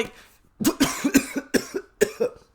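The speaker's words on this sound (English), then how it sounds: "Oh shit, I'm only coughing." A burst of repeated harsh coughs, about six in quick succession, close and fairly loud after a quiet start.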